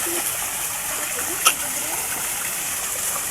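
Steady broadband rush of water at Camping Falls, a constant wash of falling water with one brief sharp knock partway through.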